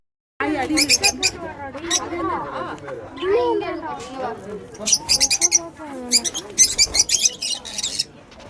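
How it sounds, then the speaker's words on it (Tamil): Pet sparrows and lovebirds kept in a home chirp and chatter in quick, bright bursts that grow busier toward the end, heard close by alongside human voices. "குருவிங்க, லவ் பேர்ட்ஸுங்க எல்லாம் வளர்த்திட்டு இருந்தாங்க"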